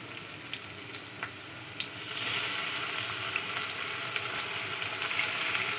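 Onion with ginger-garlic paste pounded in a mortar sizzles in a hot pan, a steady dense crackle that swells louder as the paste goes in, with a few faint clinks of stirring and no talk.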